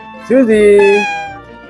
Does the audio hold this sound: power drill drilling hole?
no